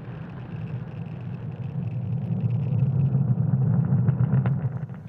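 A rocket engine roars as the launch vehicle pitches downrange, a steady, broad rumble that slowly swells louder with faint crackle on top.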